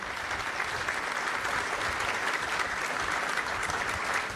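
Steady, dense audience applause from a large crowd at the closing ceremony of an event, continuous and even throughout without a break.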